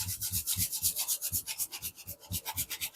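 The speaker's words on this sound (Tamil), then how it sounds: "இதுக்கு கொஞ்சம் ஜாதிக்காய் அப்படி சீச்சு விட்டுக்கலாம்" Whole nutmeg is rubbed against a grater over sweet pongal, a fast, steady run of rasping strokes, close and fairly loud with no talk.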